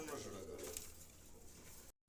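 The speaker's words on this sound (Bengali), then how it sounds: "দর্শক এখানে এক পেয়ার রাজগোল্লা কবুতর" Rajgolla pigeons at a poultry farm, giving soft, brief cooing at low volume, with voices nearby.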